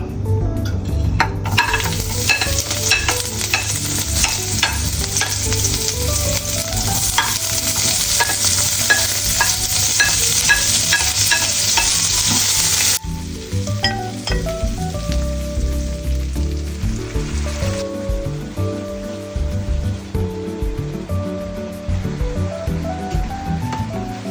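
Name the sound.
frying tofu in a pan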